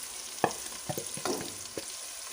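Masala spices frying with onions and tomatoes in a pan for mixed vegetable sabzi, sizzling steadily under irregular scrapes and clinks of the stirring spoon, close and without talk.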